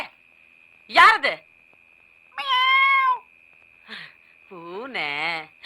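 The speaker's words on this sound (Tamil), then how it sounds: "இந்த பூனை தொல்லையே பெரும் தொல்லையா போச்சு." A cat meows several times in separate calls, some short and some drawn out and wavering, loud and close against a quiet room, with brief human sounds between them.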